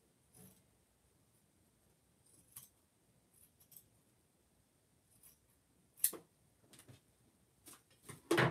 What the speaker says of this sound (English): And then I trim the excess outside the zigzag.